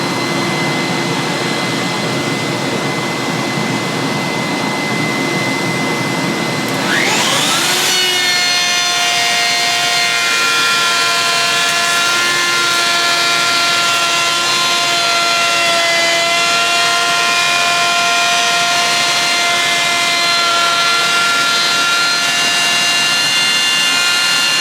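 A Festool router runs with a loud, continuous high whine during a jointing pass on wood, the pitch shifting sharply as the bit engages and then holding steady and close with no speech.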